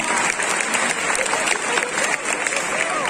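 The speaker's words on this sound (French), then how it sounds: "On peut l'applaudir encore une fois bien fort." An audience at a cosplay contest in Nantes applauds loudly and steadily, a dense wash of clapping with crowd noise throughout.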